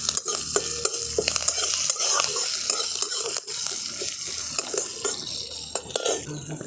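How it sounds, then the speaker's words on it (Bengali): Curry leaves and green chillies fry in a little hot oil while a spatula stirs and scrapes the pan, giving a continuous sizzle broken by repeated metallic clinks, close and with no talking. "কারি পাতা কাঁচা লঙ্কাটা দিয়েও আমি একটু ভাজা ভাজা করে নেব।"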